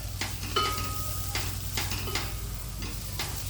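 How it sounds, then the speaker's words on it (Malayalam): Garam masala, coriander, chilli and turmeric powders are stirred in hot oil for a white chickpea curry. Spaced scraping strokes of a spoon sound over a low, steady hum and gentle sizzle. "ഗരം പൊടി മല്ലിപ്പൊടി മുളക് പൊടി മഞ്ഞൾപ്പൊടി ഇതൊന്ന് വഴറ്റട്ടെ"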